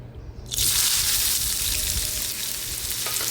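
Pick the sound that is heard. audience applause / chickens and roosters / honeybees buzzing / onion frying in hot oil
onion frying in hot oil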